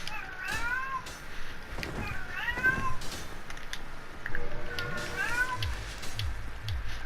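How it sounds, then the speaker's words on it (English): Repeated meows from a house cat somewhere in the room, short wavering calls that come in pairs and clusters over faint game audio, with a low voice murmuring at moments. "I apologize if you can hear my cat in the background."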